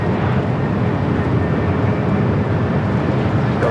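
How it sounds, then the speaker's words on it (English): A Delta Airbus A321neo arriving at LAX from Minneapolis makes a steady, loud, broadband jet roar that holds throughout without a break. "Delta E321 Neo up next. Flight coming in from Minneapolis."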